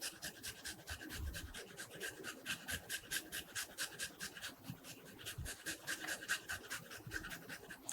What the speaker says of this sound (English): what I like to use is called a rasp or a microplane, and this will just really grind it up really fine